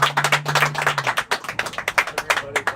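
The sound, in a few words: audience clapping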